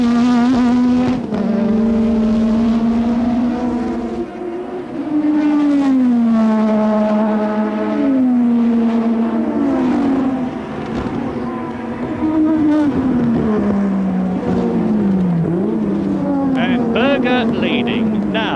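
Onboard sound of Nakajima's Formula 1 car at the 1987 Japanese Grand Prix: a loud, high engine scream that rises and falls through repeated gear changes and braking, with commentary running over it.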